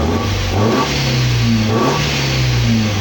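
An Opel Calibra engine, just started after timing belt work, runs loud and close with a rough, uneven idle and repeated small surges in revs.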